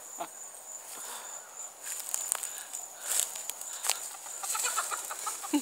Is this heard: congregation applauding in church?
no